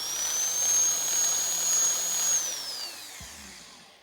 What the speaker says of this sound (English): I'll just do a bit more drilling around there.